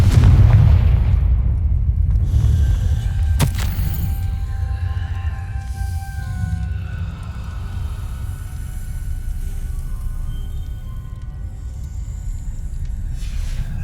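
A Confringo fire spell explodes in Hogwarts Legacy with a loud deep boom at the start, then a rumbling tail that fades into game ambience with faint tonal effects.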